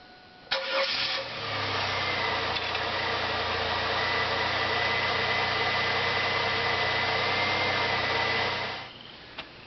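A GM 3800 series V6 in an F-body car, just fitted with a new fuel pressure regulator, cranks briefly, catches, then settles into a loud, close, steady idle that cuts off near the end.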